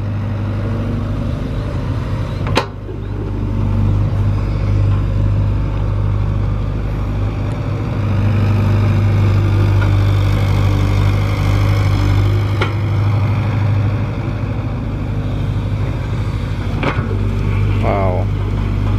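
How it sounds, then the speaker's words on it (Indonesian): A Komatsu PC200 excavator engine drones steadily and loudly throughout, a deep continuous rumble with occasional clanks, while a voice speaks briefly over it. "Kekuatan dari mesin ekskavator sangat kuat sekali, teman-teman."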